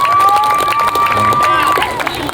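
A crowd at a village club football final in Grinting, Indonesia, makes a loud, busy wash of applause and cheering noise, with voices shouting and talking over it throughout.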